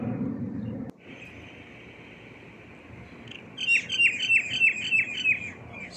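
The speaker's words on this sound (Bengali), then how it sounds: "শালিক পাখি।" Myna birds call in the morning in front of a house. After a brief low rumble, a quiet stretch gives way to a rapid series of bright, repeated chirps nearby, with no speech.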